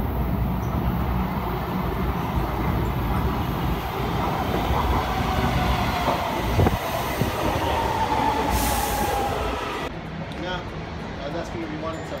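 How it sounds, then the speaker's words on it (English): Subway train noise fills a downtown Los Angeles metro station, with a steady rumble, rail rattle and occasional wheel squeal running throughout, and people talking over it. "so this is the metro station"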